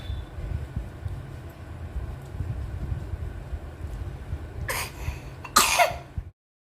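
A baby with a cold coughs in two short, harsh bursts near the end, close to the microphone, after a stretch of quiet room hum with no talking.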